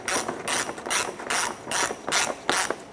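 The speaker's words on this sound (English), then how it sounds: "Let's go ahead and tighten up our 7 millimeter screws on the passenger side." Ratchet clicking in quick repeated bursts while tightening 7 mm screws on the front upper subframe crossmember of a 2006-2013 Chevrolet Impala, roughly seven strokes in three seconds, close and clear.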